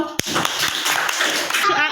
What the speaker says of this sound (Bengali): ওর জন্য সবাই হাততালি দাও।